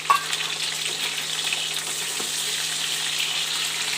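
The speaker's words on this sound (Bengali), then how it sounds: "আর পেঁয়াজ একসাথে একটুখানি ভেজে নেব।" Capsicum and onion fry together in a pan, giving a close, steady sizzling hiss that holds at an even level from start to finish, with no voices.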